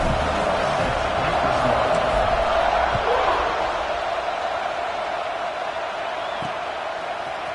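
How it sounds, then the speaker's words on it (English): A stadium crowd in the video game College Football 26 keeps up a steady, buzzing roar after a touchdown, loudest at the start and then easing slightly, with faint thumps underneath. "this crowd is buzzing after that last score"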